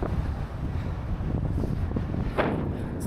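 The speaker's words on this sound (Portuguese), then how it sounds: "Meu, olha o vento." Strong wind gusts buffet the microphone outdoors at a scenic lookout, a continuous low rushing roar with brief louder swells.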